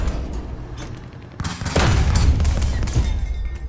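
Tank cannon fire in the War Thunder video game sounds out as a loud boom, followed by a rumbling blast and a crackling tail.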